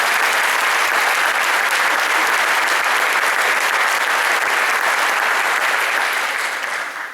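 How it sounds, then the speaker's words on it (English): A school band audience in a hall gives a loud, sustained round of clapping that stays dense and even for several seconds, then tapers off slightly at the end. "let's applaud for each one of these"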